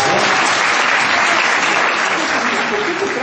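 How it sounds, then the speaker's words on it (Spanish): Steady, dense applause from an audience at a children's storytelling show fills the whole stretch at an even, loud level, with no talk over it. "Un aplauso para Rodrigo."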